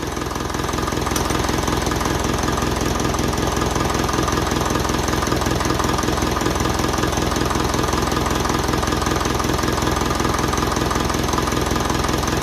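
A 1955 Ferguson TEF 20 diesel tractor idles as it warms up. The engine knocks in an even, continuous rhythm, loud and close throughout, with no voices.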